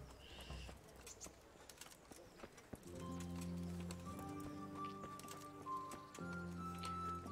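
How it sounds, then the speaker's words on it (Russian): Horse hooves clip-clop in a video game, a steady near rhythm of hoof falls joined after a few seconds by sustained tonal game music, with faint bird-like calls early on. "Лошадь."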